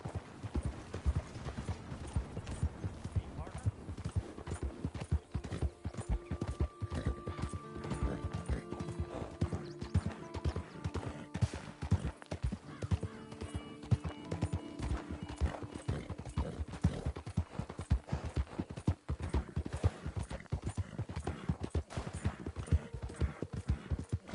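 Steady clip-clop of a ridden horse's hooves in a video game, rhythmic and close, with occasional neighs and whinnies breaking through the continuous trotting.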